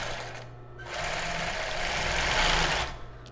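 Sewing machine running a small zigzag stitch on a child's bra, a brief start then a steady rapid whirring buzz of close stitching that stops near the end.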